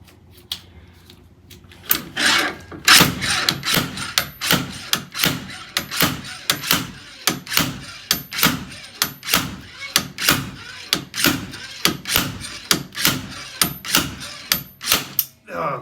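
Repeated metallic slide hammer strikes clank in a steady rhythm, roughly one every second, loud and close, as a rear wheel hub is pulled out of its bearing on a 2003 Toyota Highlander.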